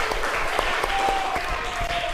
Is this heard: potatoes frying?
no